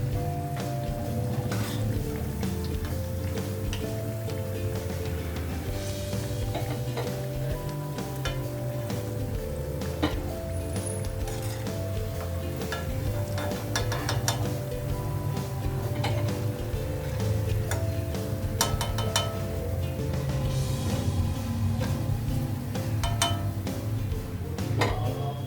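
Banana flower and chickpea vadai deep-frying in hot oil, a continuous close sizzle and crackle with occasional utensil clinks, steady throughout.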